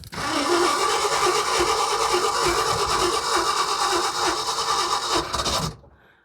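An engine fitted with a newly installed Edelbrock AVS2 1915 off-road carburetor cranks and runs in a loud, steady, rough drone up close, then cuts off abruptly just before the end.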